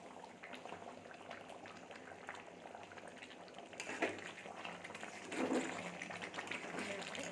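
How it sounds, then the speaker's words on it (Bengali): Curry bubbling in a cooking pot, a soft, steady simmer of small pops and gurgles heard close but faint, swelling a little louder toward the end. "টক টক করে ফুটছে।"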